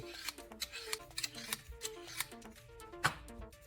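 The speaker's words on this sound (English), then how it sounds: "make a few cuts against the knife spine" Scissor blades snipping against the spine of a knife in quick, regular crisp cuts, about a dozen light metallic snips close up with no talking.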